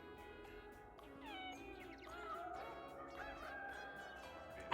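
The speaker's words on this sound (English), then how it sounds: "It's just a high-pitched squeak. That's what foxes sound like." High-pitched squeaky, meow-like calls of a fox in a video game, several short wavering cries rising and falling, faint and close, ending with a sudden sharp click.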